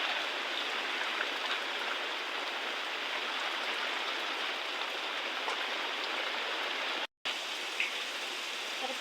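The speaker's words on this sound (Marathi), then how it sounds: "आपल्याकडे जोरदार पाऊस चालू झाला आहे" Heavy rain pours down in a steady, dense hiss that fills the whole clip, with one very brief dropout near the end.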